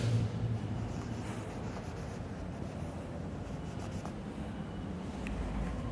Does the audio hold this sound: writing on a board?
yes